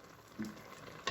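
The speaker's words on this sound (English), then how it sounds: "now I'm putting in my bonga fish, and you stir" Bonga fish frying in a pot while being stirred: a soft, steady sizzle with a couple of brief stirring knocks, close and quiet.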